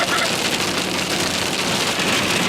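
Heavy rain drums steadily on the roof of a car travelling along a highway in central Mongolia, a loud, dense, unbroken hiss and patter that fills the cabin with no pauses.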